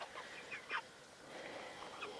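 Farm-raised chickens cluck in short, soft bursts, with a few brief calls over a faint background.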